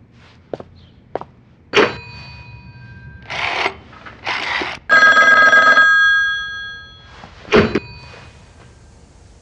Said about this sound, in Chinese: 云嫂，终于等到您的电话了，一定有什么好消息吧？